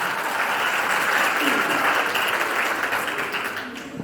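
An audience at a school teachers' gathering bursts into dense, sustained applause that holds steady for several seconds before tapering off near the end.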